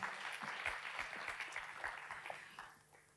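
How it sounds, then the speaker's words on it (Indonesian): A church congregation in Jakarta gives a round of applause, fairly quiet and distant, with scattered claps that thin out and fade toward the end. "Gua kasih tepuk tangan pada mereka semuanya."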